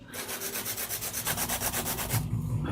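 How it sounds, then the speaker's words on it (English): A hand file rasps back and forth across a fingernail in quick, even strokes, close and steady for a few seconds before easing off. "I'm like breaking a sweat hand filing."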